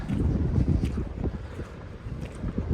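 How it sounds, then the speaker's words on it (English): Wind buffets the microphone outdoors in rural Victoria, Australia, near wind turbines, a loud, continuous low rumble with gusty swells throughout. "Hopefully the wind's not too bad and you can still hear me."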